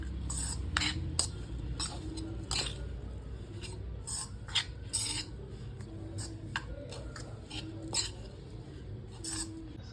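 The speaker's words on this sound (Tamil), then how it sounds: "இதை ஜஸ்ட் எல்லாத்தையும் மிக்ஸ் பண்ணிக்கோங்க." Dates, raisins and bread crumbs are mixed by hand in a bowl for laddu, making quiet, repeated scraping strokes and light clinks of a utensil against the dish.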